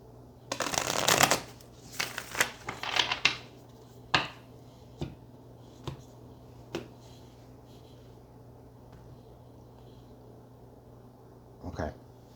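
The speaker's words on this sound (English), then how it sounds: "one more shuffle for Virgo" Tarot cards being shuffled close by: a dense riffle burst in the opening seconds, then several sharp single snaps and taps spaced out, a quiet stretch, and one last soft flutter near the end.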